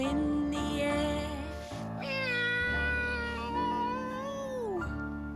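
A cat meowing in a children's show, sounding as several long drawn-out tonal meows that rise and fall, loud and close, with no talk over them.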